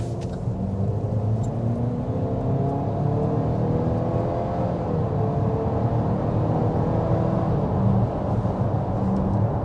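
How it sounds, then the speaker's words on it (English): Hard acceleration heard from inside a 2023 Chevy Blazer Redline: a steady, loud engine drone and road rumble that builds continuously for about ten seconds with no talk. "Let's start with a hard acceleration."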